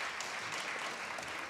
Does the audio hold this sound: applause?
yes